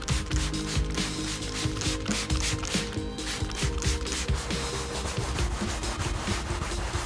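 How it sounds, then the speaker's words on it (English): A stiff carpet and upholstery brush scrubs a car's carpet floor mat during a pre-sale detail of a Nissan Skyline R34, making loud, continuous close-up rasping strokes that run without a break and with no talking. "I'll spot treat any obvious stains I see, but also give the entire mat a good scrub down."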